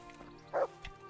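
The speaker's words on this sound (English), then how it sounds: "Oh, dog?" A dog in the medieval role-playing game Kingdom Come Deliverance gives a single short bark in a dim interior, a brief close yip standing out over quiet game ambience, with a fainter follow-up sound just after.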